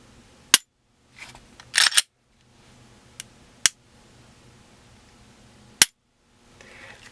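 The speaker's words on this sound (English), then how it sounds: "Definitely a smoother trigger pull" A Glock 43 pistol dry-fires with several sharp, isolated snaps of the trigger and striker, each a crisp click separated by quiet gaps, with faint handling noises of the slide being racked in between.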